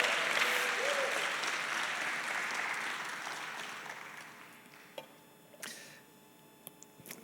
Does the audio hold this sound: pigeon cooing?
no